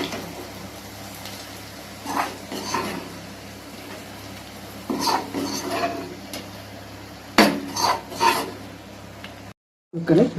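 A spoon scrapes and rubs around a pot while ladies finger buttermilk curry is stirred, giving irregular bursts of close scraping over a steady low hum, with a brief dropout near the end.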